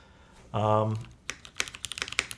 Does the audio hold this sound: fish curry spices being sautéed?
no